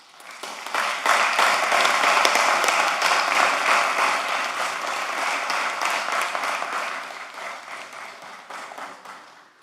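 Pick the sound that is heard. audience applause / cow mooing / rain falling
audience applause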